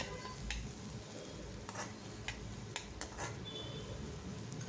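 Chicken fried rice being stirred in a pan, with soft scraping and clinking of a utensil against the metal over a faint, steady sizzle, close and fairly quiet, with a few sharper clicks scattered throughout.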